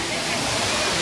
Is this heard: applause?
no